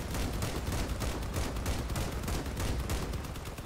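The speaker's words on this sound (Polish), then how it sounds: "tam ktoś nas strzela z tyłu" Rapid gunfire in Crossout, a dense, continuous volley of loud shots and impacts rattling without pause for several seconds, with no voices over it.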